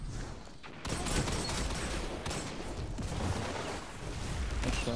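Rapid bursts of gunfire from a 4v4 cross-platform tournament finals shooter match, dense and continuous after a brief quiet start, loud throughout with no talking.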